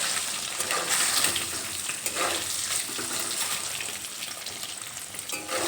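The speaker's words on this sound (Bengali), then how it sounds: "মিডিয়াম ফ্লেমে ডিমগুলো একটু ভেজে নেব" Eggs fry in oil over a medium flame, a bright continuous close sizzle with a hissing, crackling texture that holds steady throughout with occasional stirring swells.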